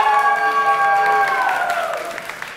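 Audience at a team contest cheering and clapping for team 1, a loud burst of crowd voices and applause that swells and then fades away within a few seconds.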